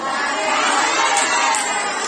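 A crowd of schoolgirls at an Islamic boarding school shout answers together in a loud, sustained chorus of young voices that fills the whole moment without a break.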